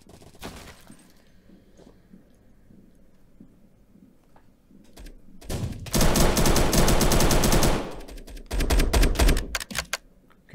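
Gunfire erupts in a multiplayer video game match, starting with a few scattered shots and building into a loud sustained burst of rapid automatic fire, then a second volley before it falls away.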